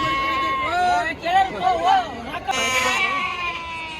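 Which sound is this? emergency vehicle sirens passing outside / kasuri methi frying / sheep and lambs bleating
sheep and lambs bleating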